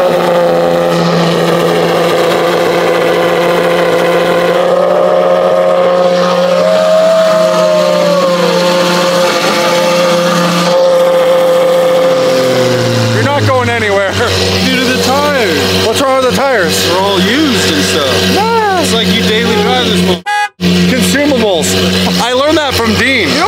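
A Lamborghini engine cranks, catches and idles, then revs in rising and falling sweeps up close and loud, with people talking over it throughout.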